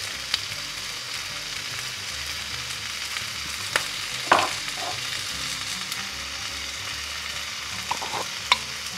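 Vegetable quiche filling seasoned with salt, basil and rosemary is stirred in a hot pan, a soft steady sizzle punctuated by a few distinct scrapes and taps of the spoon.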